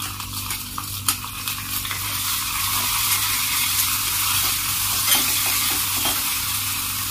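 Ginger-garlic paste, chopped green chillies and cumin seeds sizzle loudly in hot mustard oil, a continuous close frying hiss with occasional spattering pops and stirring scrapes.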